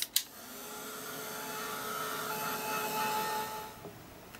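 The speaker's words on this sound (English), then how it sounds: "grab the heat gun. Let's get that dried off." A heat gun dries paint on a craft project, a steady blowing whir that switches on with a click, runs evenly for about four seconds and cuts off.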